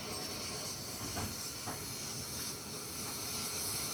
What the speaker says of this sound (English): here I'm using steam to clean it